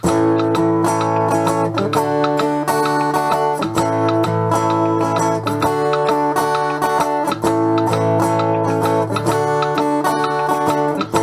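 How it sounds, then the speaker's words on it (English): Acoustic guitar chords strummed in a bouncy swing rhythm, steady and close, repeating the same pattern several times with no voices. "Now if we do our same strum that we did before,"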